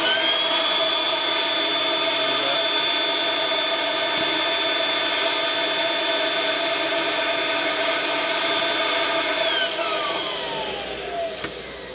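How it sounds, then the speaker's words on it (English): A KEL2020 system blower unit runs with a steady, loud whirring drone and a high tonal whine, holding constant before easing off slightly near the end, with no voices. "But a quick way to test the blower would be to use that."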